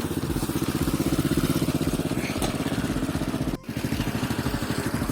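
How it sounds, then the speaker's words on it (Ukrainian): A quad bike towing a small trailer drives out over bumpy ground to a potato field, its engine a steady, close, continuous putter with a brief dip in the middle. "Ось мій квадроцикль, возик і йдемо збирати, от їдемо по картоплі."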